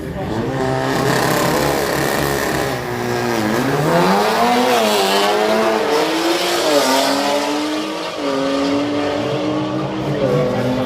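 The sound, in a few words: red Audi RS3 and BMW drag racing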